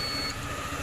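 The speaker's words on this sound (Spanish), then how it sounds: "el pitido que emitió el inversor es porque quizás la batería no se está suministrando la corriente suficiente" A power inverter running off a car battery gives a single thin, steady electronic beep lasting about a third of a second, then falls silent over a low background hum.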